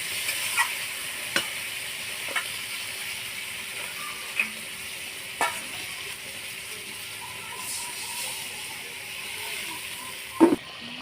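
Sautéed potatoes sizzle steadily in a pan as water goes in, a constant close hiss broken by a few light utensil clicks and a louder clatter near the end, with no talking.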